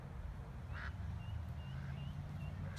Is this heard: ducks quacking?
yes